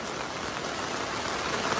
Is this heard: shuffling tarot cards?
no